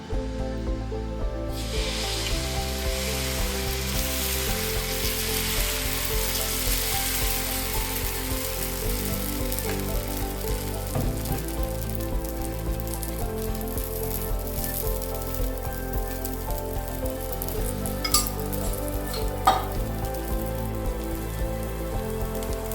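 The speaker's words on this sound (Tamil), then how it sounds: "இப்போ நம்ம தோசை ஊற்ற போகிறோம்" Millet dosa batter sizzles on a hot pan in a steady, rain-like hiss that starts suddenly and carries on evenly, with background music playing throughout.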